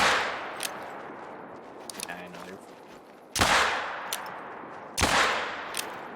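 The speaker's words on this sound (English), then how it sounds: "So the individual shots are cleaner." Two loud, sharp high-caliber rifle shots from the hunting game Hunter: Call of the Wild crack out about a second and a half apart, each with a short decaying tail, over quiet outdoor ambience and a few faint clicks.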